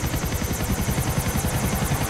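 Helicopter in the Xbox 360 game GTA IV: The Lost and Damned, a loud, steady rotor chop with rapid regular blade thumps and a continuous engine whine, no voices.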